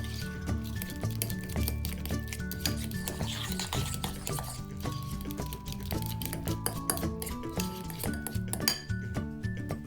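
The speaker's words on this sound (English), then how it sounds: "Now add in the juice of half a lime. Mix, mix, mix, mix." Guacamole being mixed in a bowl with lime juice added, a steady run of clinking and scraping utensil strokes against the bowl under dense background music.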